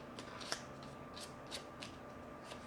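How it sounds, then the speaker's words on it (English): Playing cards being shuffled during a game of Dominion: soft, faint papery riffles and swishes in a quick run of short bursts, with no talk over them. "Go ahead and start shuffling."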